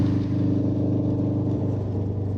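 An old, run-down car being driven, its engine holding a steady, close, low droning rumble for a couple of seconds with no speech.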